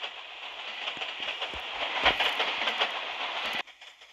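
Rumbling, clattering ride aboard a train that looks shabby, a steady broadband roar with scattered knocks and a louder jolt midway, then a sudden drop in level near the end.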